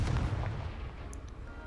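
A Confringo blasting spell going off in Hogwarts Legacy, a single heavy booming burst that fades into a rumbling tail, with no talk.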